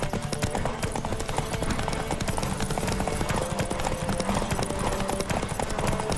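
Horse galloping in The Witcher 3, a steady rapid clip-clop of hooves running continuously at close range, with an occasional whinny mixed in and little talk over it.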